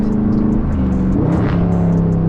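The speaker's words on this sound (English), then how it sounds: "Hit that little downshift, you get that nice little pop with the growl." Dodge 392 Scat Pack V8 exhaust growling at low revs, with a small pop on a paddle downshift, close and loud with a steady rumble throughout.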